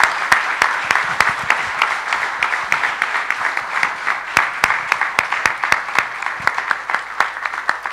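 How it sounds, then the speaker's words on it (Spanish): An audience applauds the team after a talk on audio design, a dense, loud burst of clapping that carries steadily throughout, with sharp individual claps standing out close by. "Quiero pedir un aplauso para todo el equipo."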